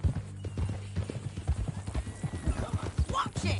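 Horse hooves clip-clopping at a steady walk in Red Dead Redemption 2, with a whinny near the end, close and moderately loud, while voices talk over them.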